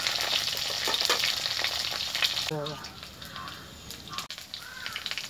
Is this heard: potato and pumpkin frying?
yes